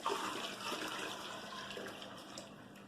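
A liquid laundry soap mixture pours into cold water with a steady, full gush and splash, loud at the start and easing slightly toward the end.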